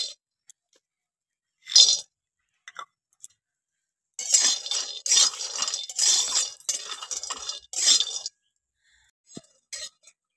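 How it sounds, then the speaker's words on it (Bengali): Almonds and cashews are dry-roasted together in a pan, their hard shells clinking and rattling against the metal in scattered taps, then several seconds of steady stirred clatter, close by with no voices. "এবার আমি কাঠবাদাম আর কাজু বাদামগুলো একসঙ্গে ভেজে নেবো।"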